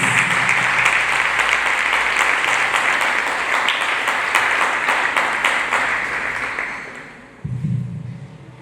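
Church congregation clapping hands together in a dense, sustained burst of applause that fills the room for about seven seconds, then fades out and gives way to a low rumble of voices and movement.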